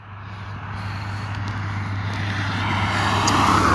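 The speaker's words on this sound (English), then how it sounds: "Now I'm right next to traffic" Road traffic rumbles close by as a vehicle approaches and passes, a steady low hum and tyre roar that grows gradually louder, with no speech.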